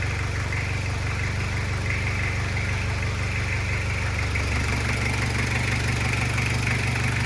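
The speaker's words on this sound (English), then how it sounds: "like this old 2 litre TD turbo diesel engine, like it's just class. Like look at how smooth it runs." An old 2-litre turbo diesel in a Toyota Caldina idles steadily and smoothly, a continuous low engine rumble with a faint rhythmic knock, close and alone for the whole stretch.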